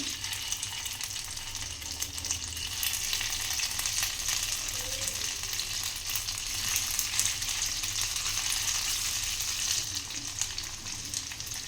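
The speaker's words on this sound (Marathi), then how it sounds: "दोन्ही बाजूनी हे मुटके छान शॅलो फ्राय करायचे आहेत" Dudhi mutke shallow frying in hot oil over a medium flame, with a dense, steady sizzle and crackle that holds evenly throughout, close up.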